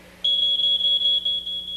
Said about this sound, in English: They reach 4 feet before the smoke detector goes off.